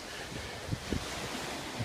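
Rough surf breaking on the beach at Montego Bay, Jamaica, a steady wash with wind noise and a few soft swells of wave impact, heard alone.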